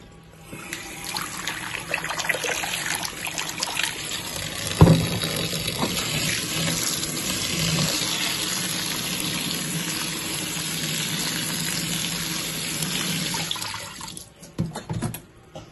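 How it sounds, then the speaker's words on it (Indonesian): Tap water runs steadily into a bowl of black sticky rice and mung beans as they are rinsed, a continuous close splashing with a brief knock partway through, then stopping near the end. "Kita cuci dulu ketan hitamnya sama kacang hijaunya"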